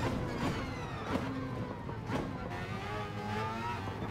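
A race car engine drones at high speed in Gran Turismo Sport at Dragon Trail, a continuous whining roar with shifting pitch through corners, steady and fairly loud.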